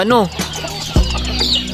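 Chickens in a backyard flock cluck and call in short, close bursts, mixed with other bird chirps and a person's nearby voice.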